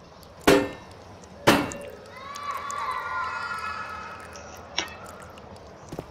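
Hammer blows breaking in during Amnesia: The Dark Descent, with two sharp heavy impacts followed by a lingering ringing, creaking tone and a fainter knock later, all without speech.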